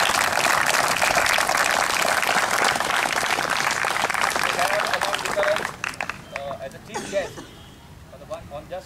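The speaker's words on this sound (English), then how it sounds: "Big clap to all these boys who played." Applause from a crowd after an under-14 school football match, broad dense clapping that carries steadily before thinning into scattered claps, with voices talking over the fading end.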